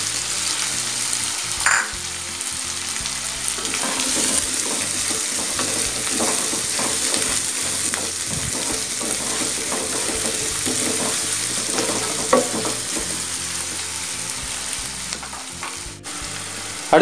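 Sliced onions sizzle and crackle in hot oil for brinjal gravy, a dense continuous frying hiss with occasional stirring clatter, close and steady throughout.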